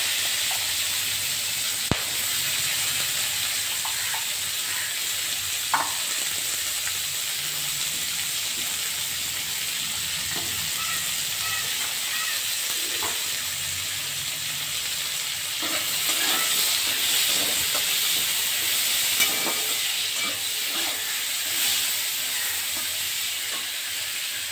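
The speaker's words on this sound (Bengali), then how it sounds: "এবারে আমি কড়াই আবার তেল দিয়ে দিচ্ছি। কয়েকটা গরম মশলা দিয়ে দিচ্ছি, আর এটাতে আমি পেঁয়াজটা ভেজে নেব।" Onions frying in oil with garam masala in a wok for a Bengali onion-prawn dish: a steady, moderate sizzle and hiss runs throughout, with occasional soft clicks and scrapes of stirring, and no talking.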